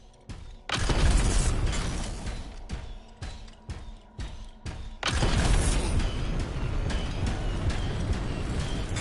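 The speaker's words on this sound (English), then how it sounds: "It'll be a contained explosion." Canisters detonating in the video game Anthem: a sharp burst at the start, several shorter cracking impacts, then a heavy sustained rumble of blast and debris that fills the rest.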